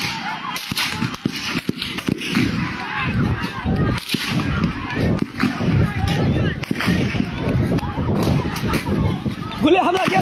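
Sharp cracks of gunfire ring out repeatedly and irregularly during a street clash with police in Paikan, Goalpara district, Assam, mixed with shouting crowd voices throughout.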